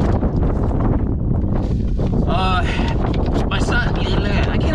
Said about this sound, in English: Yeah, that wind, my goodness.